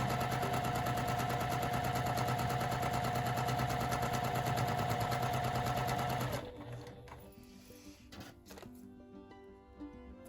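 A sewing machine stitches quilt scraps together in a loud, steady close-up run for about six seconds, then stops and gives way to quiet handling sounds.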